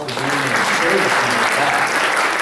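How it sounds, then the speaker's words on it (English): An audience at a school assembly gives a loud, dense round of applause that stays steady and close for the whole stretch, with some voices mixed in. "Now let's give him a round of applause for doing"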